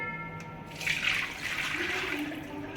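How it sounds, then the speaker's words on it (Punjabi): Water pours and splashes steadily through a strainer for a few seconds as soaked chana dal is drained, a brief liquid draining sound at close range. "ਹੁਣ ਆਪਾਂ ਇਹਨੂੰ ਛਾਣ ਲੈਂਦੇ ਹਾਂ ਪਾਣੀ ਆਪਾਂ ਇਹਦਾ ਕੱਢ ਦਿੰਦੇ ਆ"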